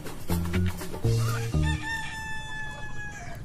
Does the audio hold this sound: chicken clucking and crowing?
yes